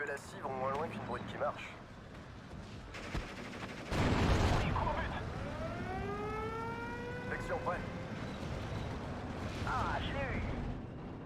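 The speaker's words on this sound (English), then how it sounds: "bombing strike coming in there should help out quite a bit" Bombing-strike explosions in the WWII strategy game Steel Division: Normandy 44, heavy booming blasts with a big burst midway, set among battle noise, whistling tones and other effects.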